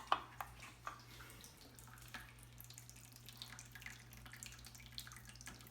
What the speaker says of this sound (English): we're still waiting on the water to pour into the bucket